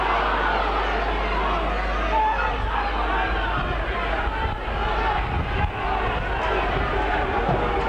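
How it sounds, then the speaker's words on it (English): Rugby league crowd at a Huddersfield versus Catalans match booing, a steady dense roar of voices filling the stadium throughout with no clear breaks. "you can hear the boos"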